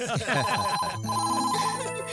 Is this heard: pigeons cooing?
no